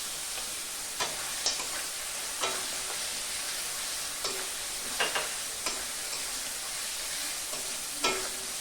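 Mutton cooks down in spiced masala in a pan for ghugni, a hissing fry beneath evenly spaced scraping and knocking strokes of a spatula, near and moderately loud, no voices.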